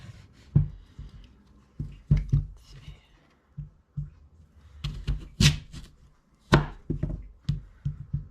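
A knife slices hard vegetables for a slow-cooker pot roast: a series of sharp, irregular chops on a cutting board, close and fairly quiet, with short pauses between cuts.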